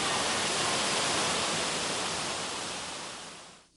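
A mountain waterfall at Shuangliu National Forest Recreation Area roars as a steady, dense broadband rush, loud and close, holding constant before cutting away at the end.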